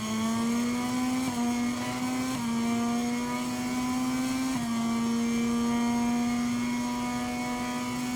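Racing motorbike engine in MotoGP 23 at a race in India, a loud steady high-revving whine with brief dips at gear shifts, holding near and continuous throughout.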